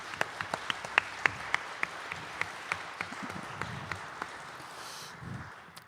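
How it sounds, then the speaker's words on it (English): Applause from a small audience at a concert by a singer and a cellist: scattered, distinct hand claps that thin out over several seconds, fairly close, with a few voices murmuring under them. "So maybe give them a round of applause for the work they're doing."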